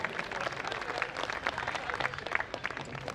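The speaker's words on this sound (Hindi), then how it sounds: "एक बार जोरदार तालियां बजाएं" An audience at a live Hindi comedy poetry gathering in Faridabad applauds, producing brisk, steady clapping at moderate loudness for a few seconds.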